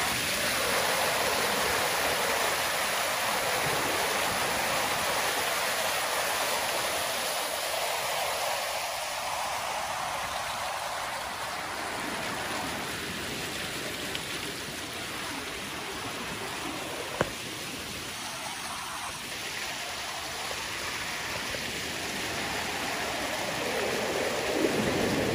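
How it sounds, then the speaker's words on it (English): A raging stream in Arctic Valley, Alaska rushes in a loud, steady roar of broadband water noise that holds for the whole stretch, close by and with no voices. "Raging water."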